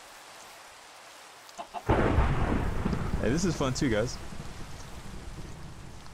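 Rain and thunder in a Minecraft FTB One game world: a loud thunder crack breaks in after a quiet stretch, followed by steady rain noise, with a voice talking over it.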